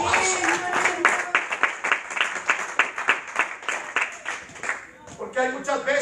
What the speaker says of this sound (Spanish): ¿Cuánto dan ese aplauso?